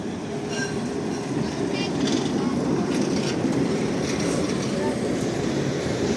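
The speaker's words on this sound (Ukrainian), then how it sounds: "Трамвайчик." A tram rumbles past in central Lviv with a steady low roar and faint wheel squeals, continuous throughout, with street noise around it.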